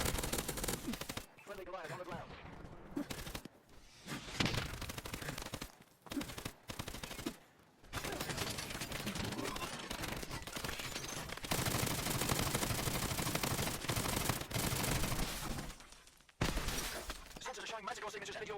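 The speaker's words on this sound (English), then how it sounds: "I'm going to soften him up by lobbing all my grenades at him. Then I'm going to get on my Goliath suit and just shoot him till he dies." Dense gunfire and grenade blasts fill a round of Call of Duty: Advanced Warfare Exo Survival, with rapid automatic bursts, sharp explosions and shattering debris. Short lulls break the battle, and it sits loud and close.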